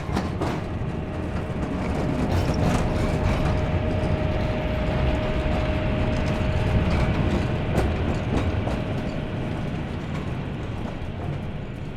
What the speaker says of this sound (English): I'll play that for you now, just so you can hear the sound that I created of the monorail passing by.